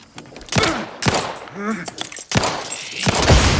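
Grenade blasts and combat bursts in The Outer Worlds 2 video game, several sharp loud broadband cracks spaced across a few seconds amid ongoing game noise, with a voice heard between them.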